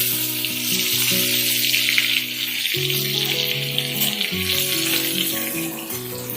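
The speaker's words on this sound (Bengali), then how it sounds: "দেওয়ার পর আমি পটলগুলো একটা একটা করে ভেজে নেবো।" Pointed gourd (potol) frying in hot turmeric-laced oil gives a steady, close sizzle that runs unbroken for the whole stretch, with soft tonal background music layered beneath it.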